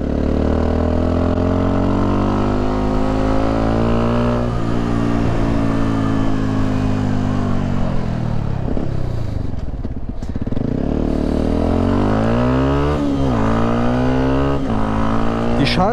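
A Yamaha WR 125 X motorcycle engine on a test ride hums and rises in pitch through the gears, loud and close with wind rush, easing off midway before revving up again.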